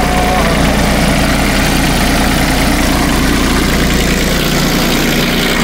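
A tractor engine that cannot be shut off and is smoking from a burning ignition, running loud and steady at idle with a continuous low rumble and vibration throughout, close by.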